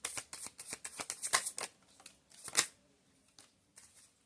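Tarot cards shuffled by hand in a quick run of crisp riffling flicks, pausing briefly and then ending in a few soft, scattered taps, with no talk over them.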